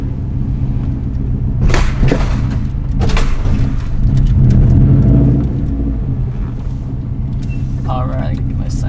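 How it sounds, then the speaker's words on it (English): A modified Subaru WRX STI with unequal length headers puts out a deep, burbling exhaust rumble with a few sharper revving bursts, steady and close beneath people talking. "the exhaust does sound a lot more aggressive and unique"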